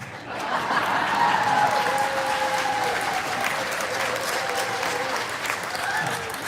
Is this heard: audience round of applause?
yes